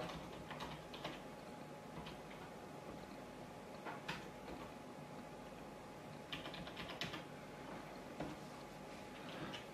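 Fingers type a username and password on a computer keyboard during a Raspbmc setup on a Raspberry Pi, giving quiet, steady clicking keystrokes with occasional sharper taps over faint room hiss.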